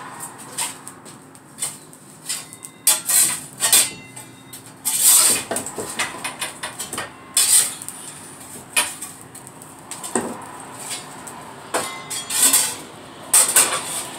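Split firewood being loaded into a real wood-fired oven with no gas assist, producing irregular knocks, clunks and scrapes of logs against brick and each other, some sharp and close, spread across the stretch.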